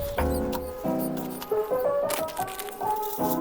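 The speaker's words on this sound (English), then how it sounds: "chucking on a bit of alfoil, a bit of salt, then I'll layer up the fillets and salt them each time" Aluminium foil and salt are laid into the bottom of a bucket before tailor fillets are salted down, making close crinkling and rustling with sharp tonal squeaks and scrapes in short bursts.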